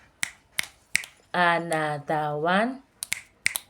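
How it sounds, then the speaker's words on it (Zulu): Children clap during a Grade R vowels lesson in a classroom: a few sharp, separate claps ring out, a teacher's voice talks briefly, then more quick claps follow. "Give yourself a clap."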